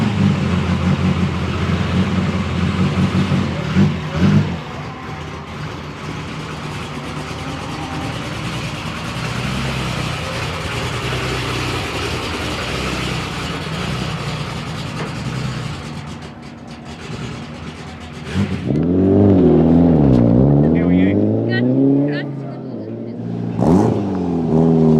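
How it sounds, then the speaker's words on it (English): Pontiac Firebird speedway race car, its engine heard through a long stretch of broad, rumbling noise before it revs up and down in loud, rising and falling sweeps near the end. "Tony Christensen in a Pontiac Firebird Speedway car"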